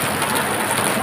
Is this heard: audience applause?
no